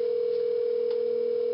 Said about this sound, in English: If I dial my test extension